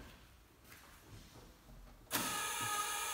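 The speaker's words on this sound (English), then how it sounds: "And the key warning buzzer works as well." Key warning buzzer of a 1969 Camaro SS396 switches on abruptly after a quiet stretch of faint rumble, holding a steady, loud, harsh electric buzz to the end.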